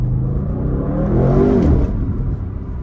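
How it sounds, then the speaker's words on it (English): A 2024 Audi RS6 Performance's V8 gives a deep, loud, close roar while accelerating through the gears, with the pitch rising and a brief shift near the middle. "you get that deep roar from the V8"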